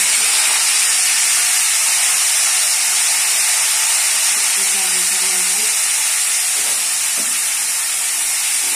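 Whole chillies and bay leaves tempering in hot oil in a pan, with tomatoes then added, producing a constant loud hiss and sizzle with a few soft knocks partway through.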